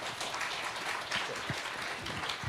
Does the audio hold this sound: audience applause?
yes